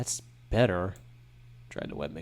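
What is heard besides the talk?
No everyday noise stands out behind the speech.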